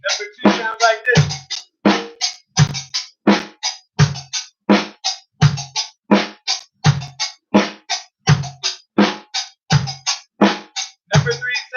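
A basic drum beat exercise played alone in a steady repeating pattern, each hit sharp with a deep low thump and bright upper ring, about two strokes per second for twelve seconds.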